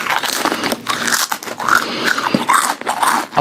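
Crisp papad, a lentil wafer, is bitten and chewed up close, giving a run of loud brittle crunches and crackles with short pauses between bites.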